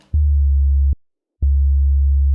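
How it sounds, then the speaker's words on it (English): A pure low sine-wave tone from a Serum synth oscillator sounds in two sustained notes separated by a brief silence, loud, clean and steady, with its stereo position swept left and right by an LFO. "The first oscillator is a basic shape, a sine wave."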